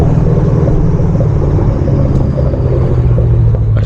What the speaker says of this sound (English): do y'all hear that turbo though?